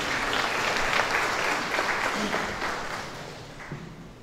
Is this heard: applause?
yes